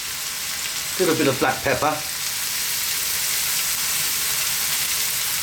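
Garlic frying in a pan over medium heat, a steady broadband sizzle running throughout, briefly overlaid by a short spoken phrase early on.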